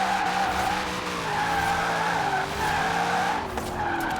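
A C8 Corvette drifting on a twisty mountain road in Forza Horizon 4, with a steady, sustained engine drone and tire skid running continuously and loud throughout.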